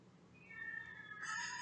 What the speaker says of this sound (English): That is the deaf cat.